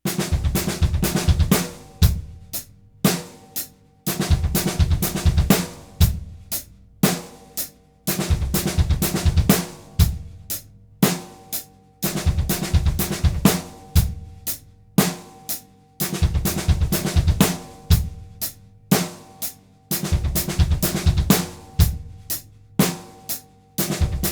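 A drum kit plays a tight, repeating groove with crisp hits and a regular backbeat, loud and close, pausing briefly between phrases.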